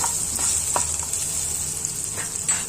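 Green chilies and seasoning fry on a low flame for an amaranth stem and moong dal curry, a close, steady sizzle with a few soft stirring scrapes and no talk.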